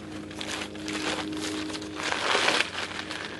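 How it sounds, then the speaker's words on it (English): Steady crinkling and rustling of plastic, continuous and close, swelling louder near the end with no voices. "It's a plastic bag with"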